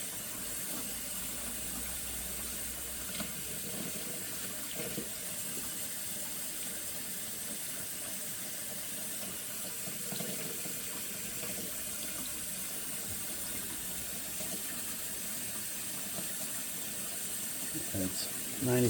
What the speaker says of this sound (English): turn on some warm water, get it running